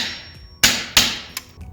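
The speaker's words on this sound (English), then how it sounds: "and then just tap it in with the hammer" A hammer taps a utility blade into a wooden board, three sharp, close knocks spaced irregularly over a quiet background.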